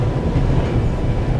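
A train in the video game The Raven rumbles along on its rails, a loud, close, continuous low-pitched roll with no voices over it.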